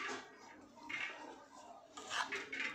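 Magad laddu mixture stirred in a pan: faint scraping and clinking strokes of a spoon against the pan, coming in short irregular bursts, quiet and close.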